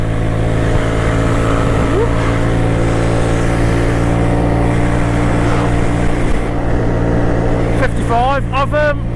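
A Suzuki Address 125cc scooter runs at wide open throttle on the road, its steady engine drone up close under wind noise, with a voice speaking over it near the end.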